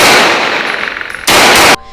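Gunshots from a .44 revolver: a sharp metallic crack that rings out and decays, followed by a second loud, sustained blast that cuts off abruptly.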